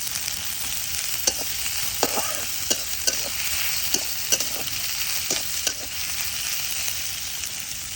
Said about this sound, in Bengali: দিয়ে দিই, পেঁয়াজ ভাজছে।